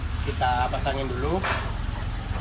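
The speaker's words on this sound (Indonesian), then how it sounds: "Sekarang nih lagi kita hidupin, kita tes dulu kelayakan mesinnya udah normal apa belum" A rebuilt ex-taxi car engine idles with a low, steady rumble, partly masked by someone speaking briefly over it.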